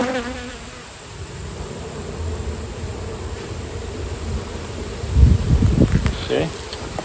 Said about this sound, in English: It's a big bee. It must be a drone.